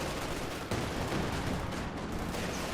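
Dense, continuous machine gun fire in the Company of Heroes 2 strategy game keeps up a steady crackling barrage, fairly quiet and distant in the mix, with no voices.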